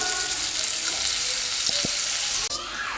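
Steady, dense sizzling of camel burgers frying in a pan, close and continuous, with a couple of brief clinks partway through and a small drop near the end.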